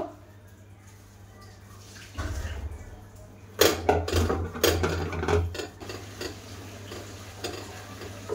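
Risen chicken bun dough kneaded and pressed by hand, with soft squishing and slapping handling noises that grow busier midway, close and fairly quiet.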